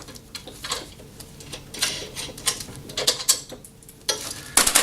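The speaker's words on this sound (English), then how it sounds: "our first step is going to be to remove these 4 nuts and bolts and place them to one side" Small metal nuts and bolts come off the handle of a Hyundai HYM510SPER self-propelled electric roller lawn mower, heard as close, irregular clicks, ratcheting ticks and light metallic rattles.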